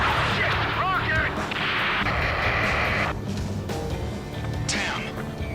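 In the Ace Combat 7 video game, a rocket launches and detonates amid heavy booming combat noise, with rumbling blasts and whooshing streaks layered under urgent radio-style voices.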